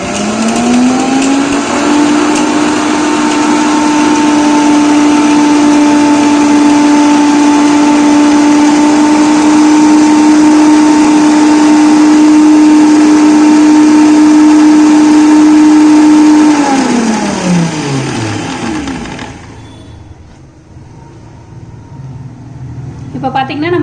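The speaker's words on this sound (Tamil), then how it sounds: "நான் வந்து மிக்சியில் அரைச்சிருக்கேன்" A mixer grinder blending ingredients for an immunity-boosting drink for children whirs loudly and steadily for about sixteen seconds, then its motor pitch drops as it winds down and stops.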